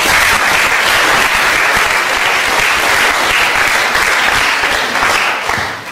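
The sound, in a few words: audience applause at lecture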